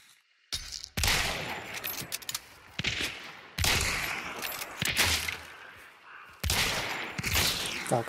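Gunfire from the video game Hunt: Showdown, with a Vetterli 71 Karabine rifle in play, rings out in several loud, sharp cracks with reverberant tails, spaced irregularly across the clip.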